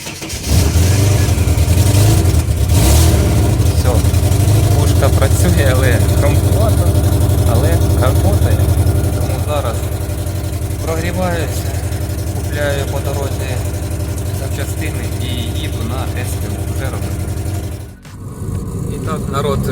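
A Daewoo Sens car engine turns over and settles into a loud, rough idle with a steady low rumble, while a voice speaks over it intermittently.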